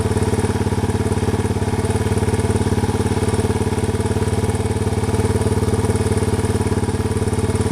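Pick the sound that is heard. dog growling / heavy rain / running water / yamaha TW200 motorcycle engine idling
yamaha TW200 motorcycle engine idling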